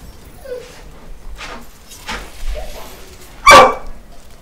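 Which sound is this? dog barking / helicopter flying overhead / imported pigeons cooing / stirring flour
dog barking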